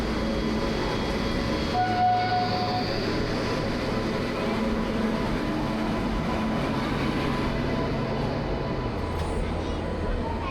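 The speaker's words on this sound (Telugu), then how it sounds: "చూస్తుండగానే మన ట్రైన్ అయితే ప్లాట్ఫామ్ నెంబర్ 2కి అయితే వచ్చేసింది." A train pulling into platform 2 of a railway station, a loud continuous rumble with steady tonal hums and a brief high whistle-like tone, voices faintly mixed in.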